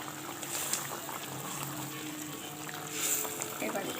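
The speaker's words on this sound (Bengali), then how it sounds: "বন্ধুরা দেখো বন্ধুরা ফুটে গেছে" Liquid bubbling and simmering in a pan for catla fish curry in oil and spices, a steady low hiss and bubble close by, with a voice talking over it.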